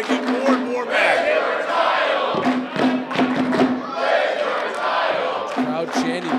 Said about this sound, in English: Crowd chanting, "Where's your title?" Rubbing it in the face of the Raging Bull.